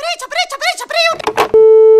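A steady continuous phone tone after a call is hung up, sounding right after a short burst of voices and lasting to the end.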